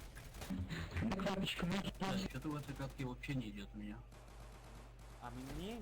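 Pistol shots from a Glock 33 in the Insurgency shooter game crack in quick bursts through the mix, partly buried under loud overlapping voices talking throughout.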